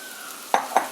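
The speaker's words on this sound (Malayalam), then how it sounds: "എണ്ണ ചൂടായി കഴിഞ്ഞാൽ ഈ അരിഞ്ഞു വെച്ചിരിക്കുന്ന സവാള" Chopped onions hit hot oil in a pan for biryani, a faint steady hiss then two quick stirring scrapes close by, brief and without talk.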